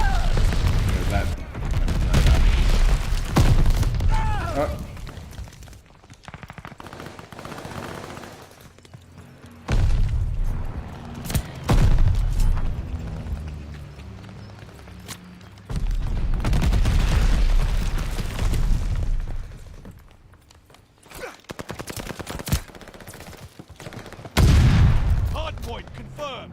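Glide bomb explosions and gunfire in the video game Call of Duty Vanguard come as repeated heavy booms and rattling bursts in clustered waves. In-game voices and players talk over them.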